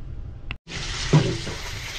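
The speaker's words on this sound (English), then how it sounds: "Go and I rinse it off." Cooked Florida crown conchs rinsed under running water, a steady broadband wash of flowing water after a brief pause, with a short splash partway through.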